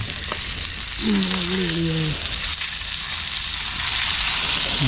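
Fish sizzles steadily in a pan of hot oil, a constant close crackling hiss, with a brief tonal sound partway through.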